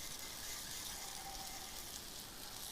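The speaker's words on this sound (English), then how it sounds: "you don't have to scramble your eggs before they go in the pan. You can do it right while they're in the pan" Eggs being scrambled as they fry in a camp skillet at a car-camping breakfast, giving a steady, faint, broadband sizzle with no talking over it.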